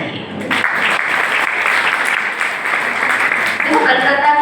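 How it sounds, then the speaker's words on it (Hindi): An audience of devotees at a Jain religious discourse bursts into loud, sustained clapping after a brief lead-in, the dense applause holding steady to the end with some voices rising near the close. "एक बार चौरंगी मंदिर वाले समस्त श्रावकों के लिए ताली बजाइए।"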